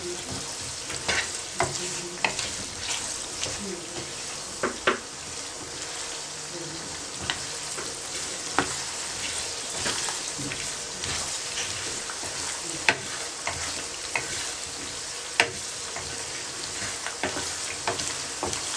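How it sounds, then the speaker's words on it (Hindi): Pulao with peas, carrots and potatoes frying in a pan, a continuous bright sizzle broken by scattered clacks and scrapes of stirring, close and steady. "बस चंद सेकंड के लिए मैंने इसको दोबारा फ्राई किया"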